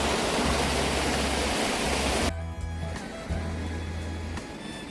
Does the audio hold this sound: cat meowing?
no